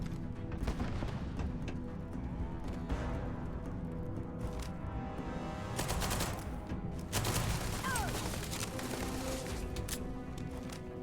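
Rapid gunfire from a binary-trigger weapon in the video game Starfield, dense bursts of shots and booms rolling continuously and loudly throughout, with heavier clusters of blasts midway and near the end.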